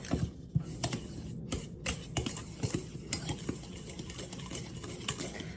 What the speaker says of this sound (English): we are going to mix all this together